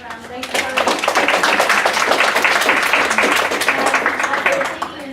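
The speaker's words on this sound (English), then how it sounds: "Give you another round of applause." A room of students at a winter leadership workshop gives a round of applause for a participant, loud continuous clapping that swells, holds steady, then tapers off at the end.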